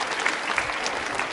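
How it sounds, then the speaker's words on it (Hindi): Audience applause at a women's club quiz show held at a university, a dense, steady wash of many hands clapping at once, fairly close and even in loudness throughout a short burst. "तालियां जोरों से बजाइए आपके लिए"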